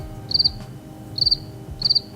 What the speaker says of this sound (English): Is there a crickets button?